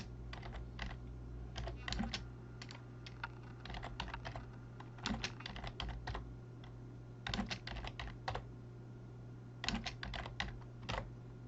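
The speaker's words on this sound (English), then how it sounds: "So I'll type in some more variables." Bursts of quick keystrokes on a computer keyboard, clattering in irregular clusters with short pauses between, set over a steady low hum from the room or computer.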